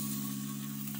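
Onion, cloves, cinnamon, cardamom, mace and garlic sizzle in hot oil for a mutton liver bhuna, a brief, close, steady frying hiss with an electric hum underneath.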